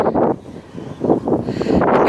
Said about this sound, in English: You'll notice a change in the noise on the recorder as I turn to face the wind